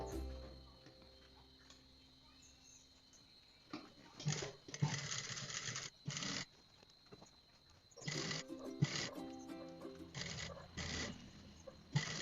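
A sewing machine runs in two bursts of rapid, whirring stitching as it topstitches a seam on a basic skirt, with quiet pauses between the runs.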